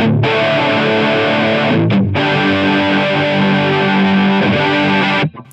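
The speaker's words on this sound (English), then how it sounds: "Good distorted sound going here with our German Mahadeva." Electric guitar through a Line 6 Helix with overdrive distortion and chorus placed before the amp, sustained saturated chords ringing loud and alone, with a brief gap near two seconds before cutting off at the end.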